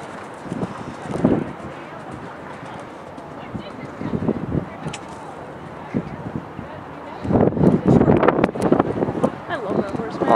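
A horse's hooves thud and clop in irregular bursts on a show-jumping course, moderately near, with wind buffeting the microphone and quiet pauses between the busier stretches.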